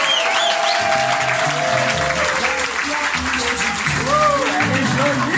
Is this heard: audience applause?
yes